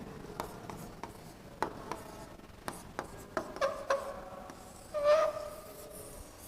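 A pen or marker squeaks and scratches faintly as it writes on a board during a geography lesson. Short strokes and taps come in irregular bursts, with a longer squeaky stroke near the end.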